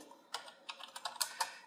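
Quick bursts of keystrokes on a laptop computer keyboard, an irregular run of close, light clicks with short pauses between them and no voices.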